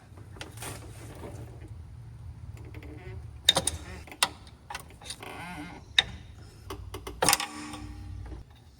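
A ratchet loosening the four 11mm bolts on the drive shaft of an OBS crew cab pickup: rapid, close mechanical clicking with several sharper clacks, heard alone without talk.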